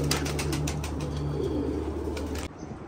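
Pigeons coo and flutter close by, with rhythmic soft clicks and wingbeat pulses over a low steady hum, cutting off abruptly near the end.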